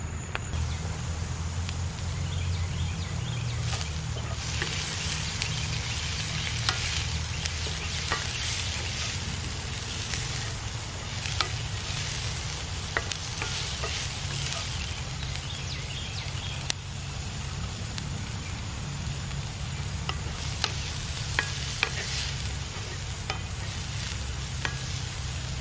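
Food sautés over a campfire while a wooden spatula stirs it, a continuous close sizzle broken by scraping and tapping strokes throughout, with no voices.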